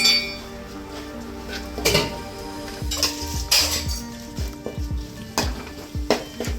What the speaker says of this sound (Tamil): இஞ்சி பூண்டு பேஸ்ட்டை போட்டு கடையில் நல்லா போட்டு வதக்கணும்